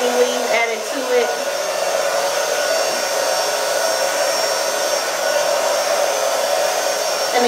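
A hair dryer blows steadily and loudly as hair is blow-dried for a blow out, a continuous whooshing motor hum with a brief shift in pitch near the start and no talking.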